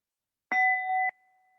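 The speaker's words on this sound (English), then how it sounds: "With the peaceful sound of the bell," A single clear bell strike at a Buddhist practice session, a bright struck tone with steady ringing overtones that pulse briefly and then fade to a faint sustained hum in otherwise silent surroundings.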